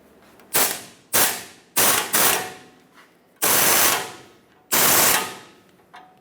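An impact tool with an 18mm socket tightens the tie rod sleeve clamp bolts on a Ford E-350 Super Duty, firing in several loud, close bursts of hammering rattle separated by short pauses.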